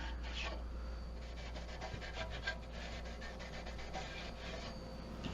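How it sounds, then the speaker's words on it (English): Sandpaper-like abrasive rubbing over rear brake parts on a 2008-2014 Mercedes-Benz C300 3.5L, a steady close scraping rasp with quick repeated strokes, no talking. "I just went around with this. It's like a sandpaper."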